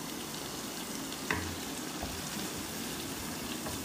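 Onion frying lightly in a pan, kept pale without browning, giving a steady soft sizzle throughout with a small clink partway and no talking.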